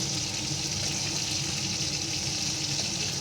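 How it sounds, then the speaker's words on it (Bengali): Katla fish pieces frying in oil in a kadai, a steady close crackle and sizzle that runs without break at moderate loudness, with no talking. "কড়াইতে তেল দিয়েও কটা বসিয়ে দিয়েছি ভাজতে"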